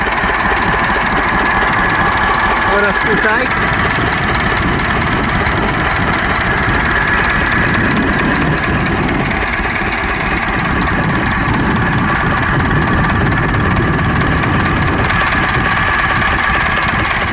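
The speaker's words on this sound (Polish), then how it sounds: "Aktualnie jest teraz podczas dotarcia silnika." An URSUS C-325 tractor engine idles during run-in after a general overhaul, a loud, steady diesel chug with a constant knocking rhythm throughout, and a brief voice speaks over it.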